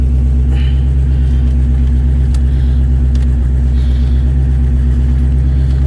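A 1971 Chevelle's 350 small-block V8 runs at a steady idle, with a deep, constant rumbling throb close by and no voices over it.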